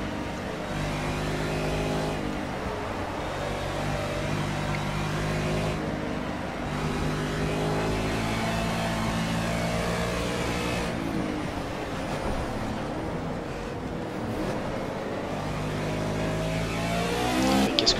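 Racing-game engines from Project CARS GT Touring at Silverstone, with an Aston Martin GT4 passing: a loud, continuous engine drone with shifting revs and gear changes, steady throughout with no talk.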